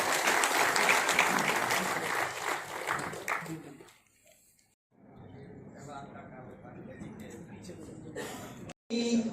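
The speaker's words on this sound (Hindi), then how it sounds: "जोरदार तालियों के साथ आपका स्वागत।" At a grand Rajput community ceremony honouring great figures, an audience bursts into loud, sustained applause for about four seconds, then it dies away into a brief lull before speech resumes over a quieter room.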